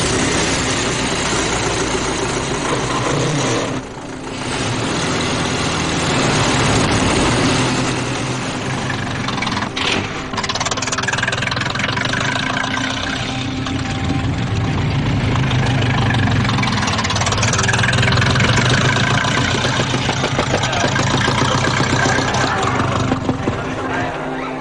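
A 1902-1914 Renault racing car engine runs steadily at a race start, a continuous low rumbling drone held at a fairly loud level throughout, with a brief dip and some faint crowd or voice noise mixed in.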